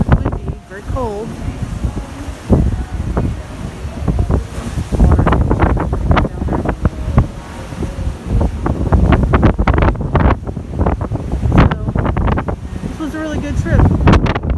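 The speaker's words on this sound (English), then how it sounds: "About 30-mile-an-hour winds." Strong wind of about 30 mph roars across the open deck of the Carnival Elation cruise ship at sea, buffeting the microphone in loud gusts over waves, with a person talking at times.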